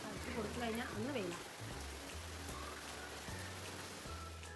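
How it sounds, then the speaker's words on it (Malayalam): Heavy rain pours down steadily on a wet day, a constant hiss that persists beneath a person talking nearby. "ഭയങ്കര മഴയാണ്."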